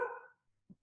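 A dog gives a single short bark at close range, followed by a faint soft thump in otherwise quiet surroundings.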